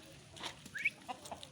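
A few faint, short clucks from chickens that have just emptied a food pot, heard nearby over quiet background.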